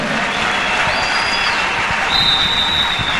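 A church congregation applauding during a sermon, a steady dense wash of clapping filling the space throughout, with no clear talk over it.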